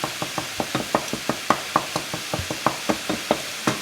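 Butter and flour cook together in a pan as a roux for a mushroom velouté, giving steady stirring scrapes and soft sizzling in an even, rapid rhythm, close and moderately quiet with no talk.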